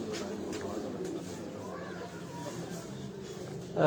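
Pigeons coo on a rooftop in short, soft repeated calls, mixed with steady low background noise and what sounds like indistinct voices nearby.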